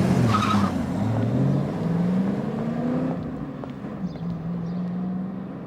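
A car engine revs in a rising, sustained roar while tires skid and squeal, loud and close throughout, with the noise easing slightly toward the end and no talking.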